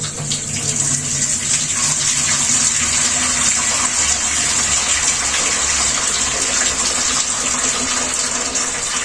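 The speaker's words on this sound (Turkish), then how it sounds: "Böyle sadece bir su dökeceğim arkadaşlar." Water pours steadily over purple cabbage being prepared for pickling, a continuous close gushing splash like a running tap that holds an even level throughout without any talking.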